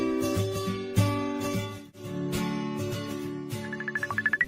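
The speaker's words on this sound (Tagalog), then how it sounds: "adaw mauawag iti cellphone ko." Smartphone ringtone for an incoming video call, heard in a kitchen in an Ilocano drama: a bright chiming melody over steady background music, ending in a rising run of quick repeated tones.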